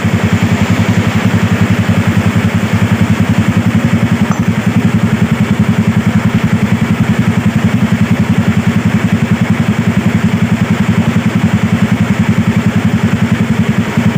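A Suzuki Vega motorcycle engine idles steadily after reassembly, a loud, even mechanical chugging with clatter that runs unbroken throughout, with heavy rain drumming on a roof in the background.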